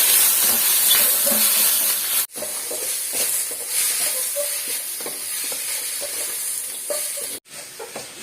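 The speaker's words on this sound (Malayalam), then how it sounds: "ഇപ്പൊ ചിക്കൻ ഇട്ട് ഒരു 2 മിനിറ്റ് നമ്മൾ ഇതേപോലെ കുക്കായി കെട്ടുമ്പോഴത്തേക്കും" Chicken pieces stir-fried in an oiled pan for a homemade Chinese dish: a steady, close sizzle with repeated scraping stirs, broken by two brief silent cuts, and no talking.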